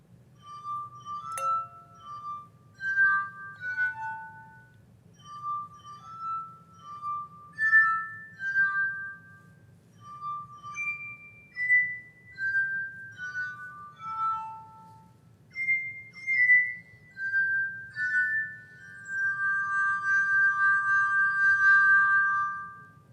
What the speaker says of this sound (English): you can kind of hear when there are 2 glasses being played versus 1 glass